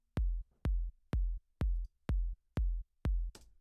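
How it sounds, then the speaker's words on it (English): Kick drum set to mono for a track, seven deep, punchy thumps in a steady four-on-the-floor pulse about every half second, close and dry, with no other instruments and no talking. "I already chose a kick drum."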